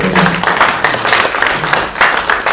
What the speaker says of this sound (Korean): 조 목사님 박수 좀 한번 쳐주셨으면 좋겠어요.